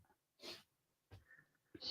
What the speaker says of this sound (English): I got to sneeze again.